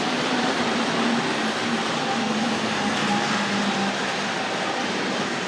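A Tri-ang model railway diesel locomotive runs along the track in a steady, even rolling hum and rattle that holds a constant level throughout, with no voices.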